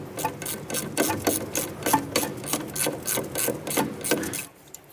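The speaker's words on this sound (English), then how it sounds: "Using a 10 millimeter socket, let's go ahead and loosen and remove this bolt right here for our ABS wire" A 10 mm socket ratchet works loose the ABS wire bracket bolt on a 2008-2012 Honda Accord, giving a close, steady run of rapid rasping clicks that stops just before the end.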